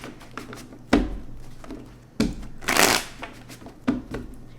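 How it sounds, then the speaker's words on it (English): Tarot cards being shuffled in several quick riffling bursts, a louder crisp riffle near the middle, with soft taps and handling noise between. "Let's get 2 more shuffles."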